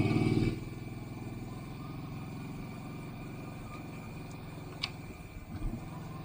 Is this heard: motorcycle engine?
yes